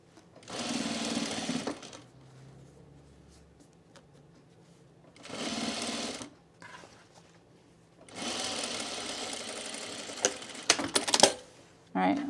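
A sewing machine stitches a seam on a pair of men's cargo shorts in three separate whirring runs with quiet pauses between them, closing with a few uneven mechanical clicks.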